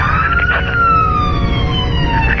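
A wailing emergency siren sweeps slowly in pitch, loud and close, over a rumble of traffic.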